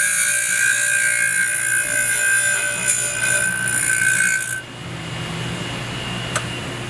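A Total Seal power ring filer runs while its grinding wheel is lightly dressed, producing a steady high motor whine with layered tones that cuts off partway through, leaving a quieter hum and one faint click.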